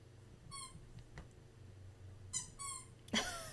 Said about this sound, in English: I don't know if you can hear the squeaky toy.